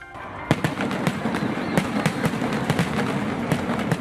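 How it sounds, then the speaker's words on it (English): Blue crackling aerial fireworks at a Denver New Year's Eve show crackle in the distance, a rapid scatter of sharp pops and snaps bursting irregularly over a low rumbling background. "Blue crackling aerial. Fires in the sky, breaks up"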